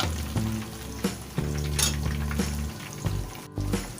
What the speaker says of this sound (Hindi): हम दूसरी साइड से भी तकरीबन 10 मिनट फ्राई करेंगे इसको।